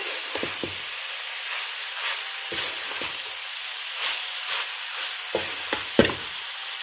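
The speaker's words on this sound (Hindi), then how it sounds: "अब हम इसमें उबाल की हुई मैकरोनी ऐड करेंगे और इसको मिक्स करेंगे" Boiled macaroni is stirred into frying vegetables in a pan, with a steady sizzle under repeated scraping and tossing strokes and a few sharper knocks near the end.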